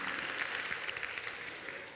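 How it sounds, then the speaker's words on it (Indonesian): A congregation at a church prayer service applauds, making a dense, even wash of clapping that stays at a moderate distance throughout. "Beri tepuk tangan yang meriah"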